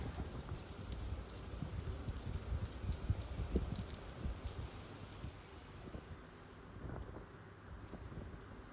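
Heavy rain pours down in Ahmedabad amid strong winds, a steady dense hiss of drops on surfaces with gusty rumbling underneath, moderately distant and fairly faint.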